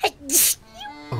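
A single sharp sneeze bursts out near the start, followed by brief voices speaking close by.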